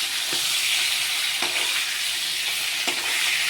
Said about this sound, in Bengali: দিয়ে আমি আগে মাছগুলোকে ভালো করে ভেজে নিচ্ছি